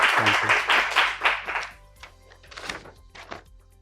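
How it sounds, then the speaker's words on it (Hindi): A studio audience claps to welcome a guest onto a Hindi talk show about media research, a burst of fairly close, sharp hand claps that thins out into a few scattered, quieter claps. "तालियों के साथ स्वागत करिए डॉक्टर आबिद अली जी का"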